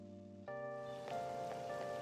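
Rain falls in the video game Persona 5, a soft, steady hiss with scattered drop taps that sits beneath looping game music, fairly quiet and with no talking.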